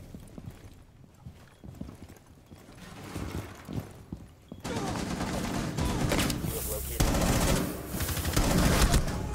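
Gunfire from Rainbow Six Siege: a dense, loud burst of rapid automatic shots fills the second half, following quieter scattered game noises and brief sounds before it, with some voice activity.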